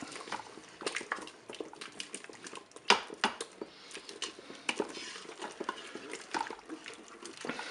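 Pork chops in a Cookeo multicooker being stirred with tomato paste: soft, wet squelching and scraping clicks in an irregular rhythm, quiet and close.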